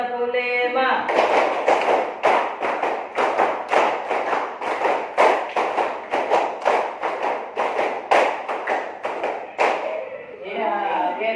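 A classroom full of students repeats a rhythmic clapping pattern five times, a long, steady series of loud, crisp group claps in regular clusters lasting several seconds, framed by a teacher speaking.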